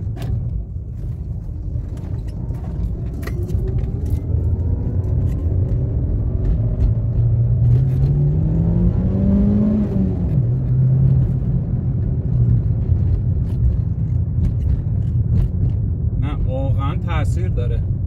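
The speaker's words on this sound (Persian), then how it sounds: "به ماشین که گاز میدین سریع از جا میکنه، مخصوصا اگه تخت گاز کنید ماشین میکنه از جا" A car fitted with a modified fibre air filter accelerates hard under full throttle, its engine note rising in pitch then settling, with steady road rumble; someone talks throughout over the engine.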